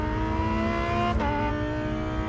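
A race car revs loudly and steadily with a sharp transient midway, as the car spins out off a racing track; engine tone stays strong and close throughout, with no talk.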